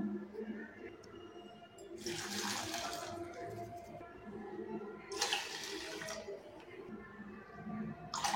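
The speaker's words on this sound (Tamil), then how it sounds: "3 கப் அளவுக்கு தண்ணி சேர்த்துட்டேன்" Water is poured into a cooking pot in two separate splashing bursts while preparing rice kozhukattai, with faint room noise between the pours.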